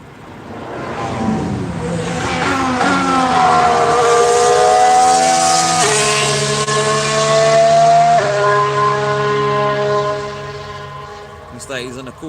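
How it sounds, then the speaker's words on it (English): A McLaren Formula 1 car on track during Barcelona testing, a loud high-pitched engine rising through gears and sweeping past, the whine climbing and dropping as it passes close by. "I think it's only the McLaren on track at the minute"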